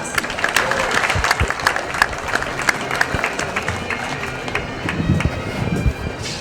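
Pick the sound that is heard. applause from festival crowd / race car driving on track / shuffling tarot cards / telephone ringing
applause from festival crowd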